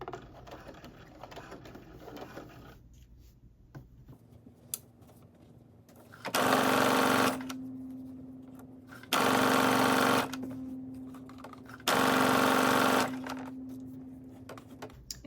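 A sewing machine stitching a sweatsuit seam at a half-inch allowance runs in three loud bursts of about a second each, separated by quiet pauses and a faint hum.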